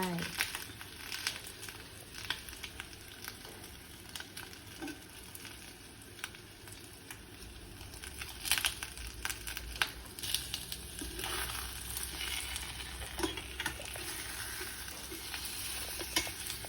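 Cucumber and egg stir-fried in a pan, a continuous sizzle with crackles and scraping stir strokes of a spatula, close and fairly quiet, with voices talking at times.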